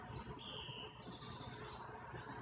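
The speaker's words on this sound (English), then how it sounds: "Listen to the birds." Faint bird chirps and thin whistled calls drift over a quiet, soft outdoor background, a few distant tweets rising and fading.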